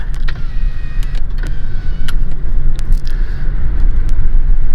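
A car drives slowly along a street in Reno, Nevada, heard from inside: a loud, steady low road rumble with scattered clicks and faint creaks from the cabin, and no voices.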